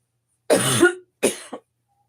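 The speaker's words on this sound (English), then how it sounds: "I'm going to probably be coughing, y'all." Two harsh, close coughs separated by a short pause, the second ending in a brief choked catch, with silence around them.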